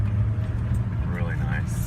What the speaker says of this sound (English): I'll show you a second gear start off.